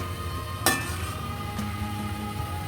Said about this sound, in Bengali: রসুন, তেল, এটা দিয়ে কিন্তু লাল শাক ভাজি করা যায়।